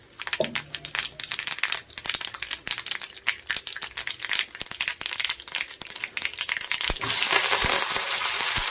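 Mustard seeds and lentils crackling in hot oil: dense, irregular crackling and popping runs steadily throughout, sharp little bursts close by, turning into a brighter hiss near the end.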